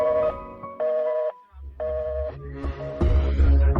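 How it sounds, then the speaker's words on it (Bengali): Electronic telephone tones sound after a call ends: steady beeping bursts separated by short gaps, followed by a louder stretch where the tones mix with a low rumble and background noise. "এখন ফোন রাখলাম।"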